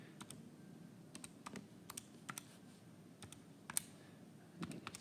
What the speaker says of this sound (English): type all that in on the calculator